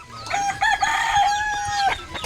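A rooster crows loudly and close for about two seconds, with hens clucking softly around it inside a hen house.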